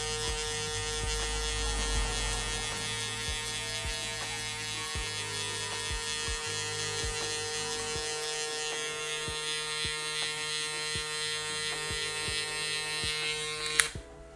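Electric hair clippers fitted with a guard comb cutting a man's hair, a steady close mechanical buzz with a strong hum that runs unbroken for the whole stretch, then a brief click near the end.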